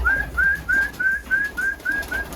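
Pigeons in a loft of Iraqi birds kept in Germany give about eight short, rising whistled calls in an even rhythm, close and clear over a low background hum.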